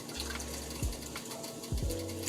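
Water is poured from a half can into a pan of tomato gravy being made for meatloaf, giving a soft, steady pouring and splashing sound with a few brief low gurgles, fairly quiet throughout.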